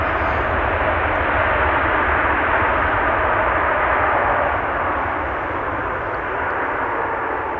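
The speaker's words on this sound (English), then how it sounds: "the 747 is not using its reversers" A Boeing 747 rolls out on landing at Amsterdam Schiphol without thrust reversers, its engines holding a broad, steady roar that fades only slightly across the stretch, heard alone.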